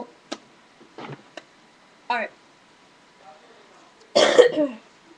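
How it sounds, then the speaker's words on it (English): One close, harsh cough near the end, preceded by a few short scattered vocal sounds and quiet pauses. "excuse me if I keep coughing"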